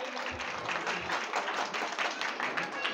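Crowd applause at a Holi Rangotsav celebration program honoring two brothers, a moderately loud, steady patter of many hands clapping throughout.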